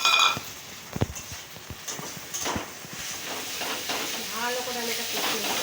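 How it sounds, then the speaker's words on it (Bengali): Lote fish fries with cumin and ginger while being stirred, a close sizzle broken by scraping strokes and knocks, with a faint voice briefly near the end. "ভালো করে আমি এটা কষিয়ে নেব"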